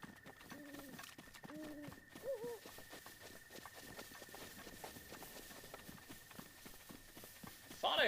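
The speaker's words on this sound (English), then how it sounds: "Thought I heard an owl." Soft cooing bird calls in the open world of Zelda Breath of the Wild, a few short hoots early on near the start, then fading into steady outdoor ambience with footsteps and a faint high tone throughout.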